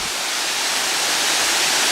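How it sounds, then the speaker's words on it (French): Steady, dense rushing roar of falling water, loud and constant throughout with no voices. "Ce qu'on voit, c'est une cascade"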